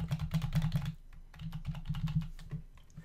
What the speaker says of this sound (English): Let me enter in my test credit card.